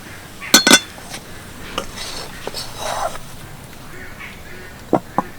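Soybean filling for a vegetarian veg omelette is scraped from a pan into a pot, giving a few sharp metallic clinks and utensil scrapes, close and moderately loud, with softer stirring noises between.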